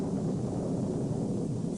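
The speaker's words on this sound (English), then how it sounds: "Thunder makes a low sound." A steady, low rumbling roar that holds constant throughout, dense and heavy with no breaks, like thunder rolling in the distance.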